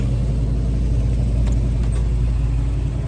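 A 1985 Chevrolet K10 Silverado 4x4 pickup with a 5.7-liter V8 runs steadily close by, a smooth, even low rumble with no change in pace and no voices.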